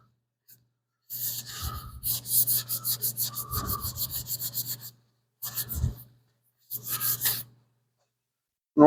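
Cloth rubbing and wiping over an old car air cleaner, a steady scrubbing rasp in close, loud bursts of a few seconds with brief pauses between strokes.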